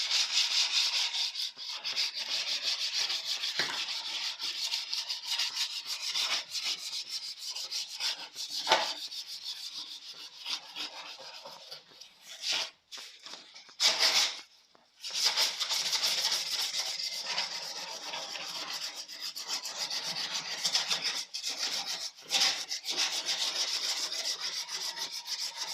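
Sandpaper rubbing steadily along a snowboard edge to strip old wax, a continuous dry scraping that stays close and fairly loud for the whole stretch, with a few brief pauses between strokes and no talking.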